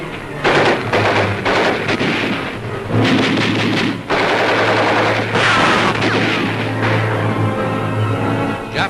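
Gunfire rattles through WWII battle footage of the liberation of Manila, with loud sustained bursts and volleys of automatic and rifle fire crackling and rumbling continuously in a noisy, distant-sounding field recording.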